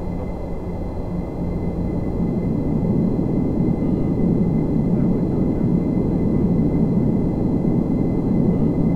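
Boeing 747-400 home flight simulator on takeoff after rotation, a loud continuous low engine roar filling the whole stretch, steady and close with a constant rumble.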